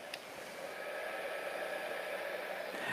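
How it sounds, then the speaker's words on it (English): A steady, hissing rush of blowing air holds constant throughout at a moderate level, like a hot-air tool running nonstop. "This is a heat gun, not a hair dryer."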